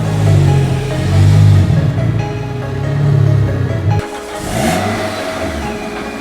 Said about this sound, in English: So Al, we will move this car now and bring over the Avalanche GT